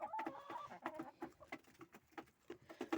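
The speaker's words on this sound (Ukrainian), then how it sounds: "Моститься курочка." A hen settling in to roost in the evening gives soft, repeated clucks and low murmuring calls, close by and fairly quiet, with no talk over them.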